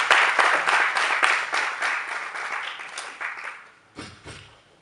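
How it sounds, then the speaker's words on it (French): Audience applause for Ambassador Abdelmalek Kettani of Morocco at a formal address: dense, sustained clapping from a crowd that thins and fades out, followed by a brief separate sound. "que nous recevons ici par des applaudissements bien nourris"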